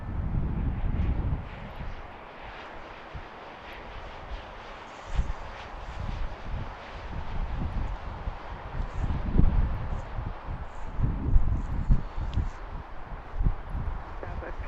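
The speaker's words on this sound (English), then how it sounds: "Next one is a Southwest 737-800 from Minneapolis." A Southwest Boeing 737-800 airliner from Minneapolis arrives at Baltimore's BWI airport, its engine rumble a low, steady roar with wind noise, under ongoing air traffic control radio talk.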